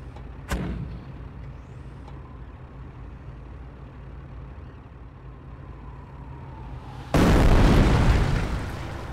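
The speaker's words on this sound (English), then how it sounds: "Order the mortar half-track to fire an incendiary barrage at the enemy infantry squad." Incendiary mortar barrage from a half-track in the World War II strategy game Company of Heroes: a sharp distant pop early on, then a loud, broad explosive burst that swells and slowly fades over low rumbling battlefield ambience, with no talking.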